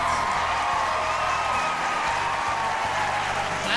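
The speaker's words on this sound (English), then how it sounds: "Give yourselves a round of applause." Audience applause for a live stream audience, a steady wash of clapping and crowd noise at moderate level, with faint whoops and cheers mixed in.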